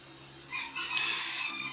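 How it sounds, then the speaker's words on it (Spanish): A rooster crows once, a raspy call rising and sustaining for about a second, moderately close over a steady background hum. "ya empezó ese gallito a saludarlas"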